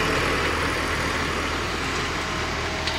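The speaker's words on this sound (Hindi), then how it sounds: "बिल्कुल लास्ट 1400 चक्कर से ट्रैक्टर चल रहा आ देखो" A John Deere 5405 tractor engine runs steadily during field work, a continuous loud rumbling drone with no breaks and no voices.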